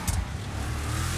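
A Vapid Trophy Truck engine in a video game holds a steady, loud drone at its top speed, a continuous roar with no break.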